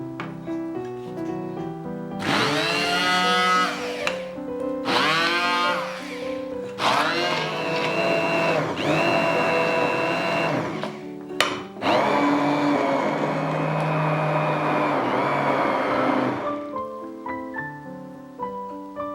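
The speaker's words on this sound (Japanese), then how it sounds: "あとはブレンダーで混ぜます。" A blender whirs while mixing melon gazpacho, in several bursts, short pulses at first, then longer sustained runs, loud and close, with soft background music between bursts.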